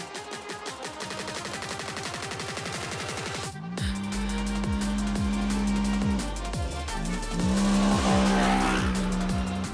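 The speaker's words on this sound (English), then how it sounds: "Now we are driving on the bumpy field road" A Segway Villain 4x4 side-by-side buggy drives fast over a bumpy field road, its engine droning steadily and loudly up close, with rising and falling pitch as it accelerates.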